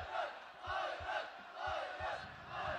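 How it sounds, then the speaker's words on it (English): Arena crowd at a ONE Championship flyweight title MMA bout, a steady roar of many voices shouting and chanting in support, swelling in waves at moderate distance with faint thuds beneath. "the crowd vocalizing their support for Kairat Akhmetov"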